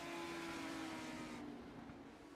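Legends stock cars racing on a track in the closing laps of the USRLA Lobster Bake 50, their engines blending into a steady, continuous drone heard from a moderate distance, with no talk over it.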